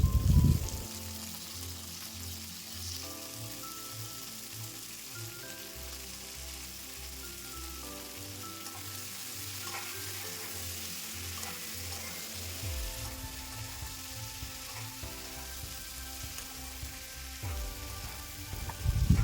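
Pointed gourd stir-frying with chopped long beans, pumpkin and potato in a pan makes a soft, continuous sizzle with occasional stirring scrapes, heard faintly under a steady tonal music bed with no talking.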